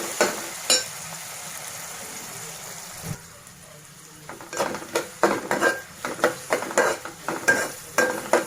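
Onion with ginger-garlic paste and turmeric frying in a pan for a potato and soya chunk curry, a soft steady sizzle broken by a run of sharp scraping stirs in the second half, with no talking.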